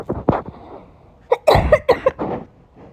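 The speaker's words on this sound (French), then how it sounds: "Je tousse et j'éternue." A single cough, a short pause, then a quick cluster of several harsh coughs close to the microphone.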